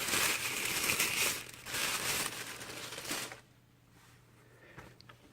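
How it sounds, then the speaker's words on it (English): Crinkly packaging rustles and crackles loudly and close up while a pair of thigh-high boots with 10 cm heels is unboxed, busy for about three seconds and then dropping to faint, sparse handling noise. "This is the sound of unboxing."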